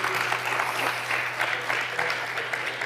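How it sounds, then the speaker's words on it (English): Scattered audience applause at a PowerShell conference session in Antwerp, a modest crowd clapping steadily for about three seconds under a faint low hum, fairly near and even in level. "maybe you can give a hand of applause for the work you're doing"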